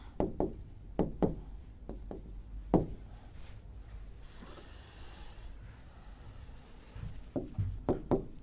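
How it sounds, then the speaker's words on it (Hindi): Hand writing quickly during a Hindi grammar lesson, bursts of brisk scratching strokes and taps, close and moderately loud, with a quieter pause in the middle and no speech. "थोड़ा फास्ट लिख देते हैं"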